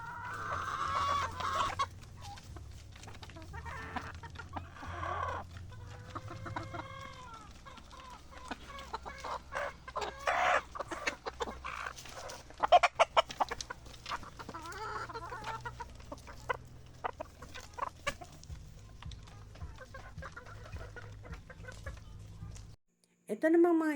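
Gamefowl stags in a range area cluck and call repeatedly, close and distinct, over a low steady hum, with a few louder squawks scattered throughout.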